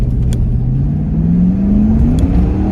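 A 1999 Pontiac Firebird Trans Am accelerates hard, its engine note climbing steadily in a loud, continuous roar that rises in pitch over a few seconds, close to the listener.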